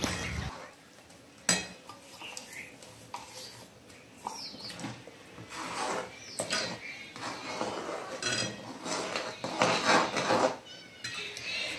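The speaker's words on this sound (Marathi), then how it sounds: "थोडं थोडं करून त्यामध्ये टाकून असं एकदम मिक्स करून घ्यायचं आहे" A chocolate ice cream base made with biscuits and sugar is stirred in a pot as it reduces, with scattered clinks of a spoon against the metal and soft scraping over a faint background, without talk.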